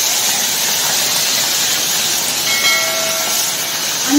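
Shrimp added to hot oil with cumin in a pan give off a loud, steady, close hiss of sizzling that holds evenly throughout.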